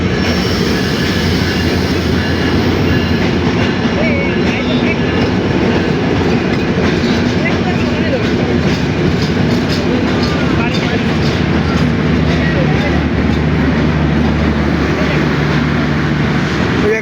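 The Dhaka-bound 766 Down Nilsagar intercity express in Bangladesh rolls along the rails behind locomotive 6608, with a loud, continuous rumble, rhythmic clickety-clack of wheels over rail joints and occasional wheel squeal, heard close up.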